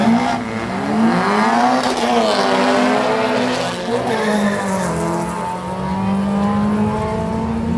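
A drag racing car at a sunny drag day accelerates hard down the strip, its loud engine note rising and shifting as it pulls away, steady and close throughout with faint tire noise and no talk.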